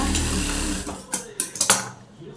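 A sewing machine stitching a quarter-inch seam on a blouse gives a few short mechanical bursts near the end, following a stretch of softer handling noise.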